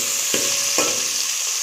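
Garlic, ginger and green chilli paste sizzling in a hot pan: a constant hissing fry with two quick spoon strokes early on, close and steady with no talking.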